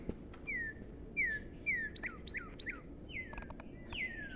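Birdsong plays in a bird-watching video game: a bird repeats bright, sharp descending chirps in a quick series of about ten calls, clear and fairly close over a quiet background hiss.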